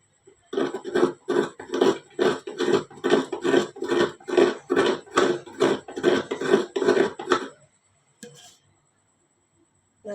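A handheld coconut scraper grates half a coconut for a coriander-leaf chutney, making a steady run of about fourteen rasping strokes, close and fairly loud, before the scraping stops and quiet follows.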